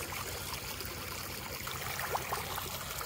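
Irrigation water flows and trickles into a maize field in a steady, moderately quiet rush, continuous throughout with no talk.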